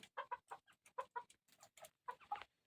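A young decoy chicken clucks in a quick series of about a dozen short, close, clear clucks in irregular bursts, with no other sounds around them.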